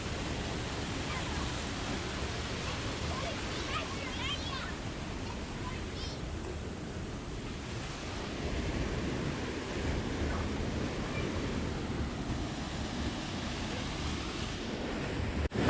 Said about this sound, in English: you'll find a nice waterfall with a swimming area